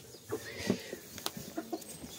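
Two-day-old chicks at a bird breeder's give soft, scattered cheeps, short and irregular, fairly faint against a quiet room.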